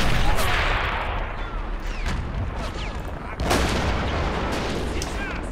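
Gunfire and artillery from a World War II Stalingrad battle video game, dense bursts of shots and booming blasts with a heavy rumbling sustained wash, loud and continuous.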